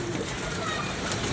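Pigeons cooing nearby in a loft, a soft, continuous murmur of calls over steady background noise.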